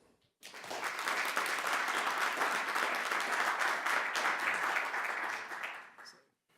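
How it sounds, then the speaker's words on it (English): Warm audience applause welcoming a lecturer at a business school lecture, rising abruptly, holding as a dense steady clatter of many hands for about five seconds, then fading out. "Let's give him a warm applause."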